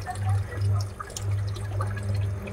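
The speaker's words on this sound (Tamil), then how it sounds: "இன்னும் தண்ணி தான் வந்துட்டுருக்கு." Flood water draining out of the engine oil sump of a flood-damaged Hyundai Xcent, a close, steady splashing pour with a low gurgling rush that swells and dips, no speech.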